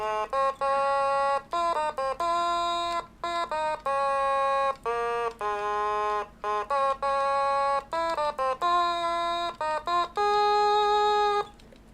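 An otamatone, a wobbly, nasal electronic-sounding instrument, plays a stepwise scale up and down, each note slightly sliding, with short gaps between phrases.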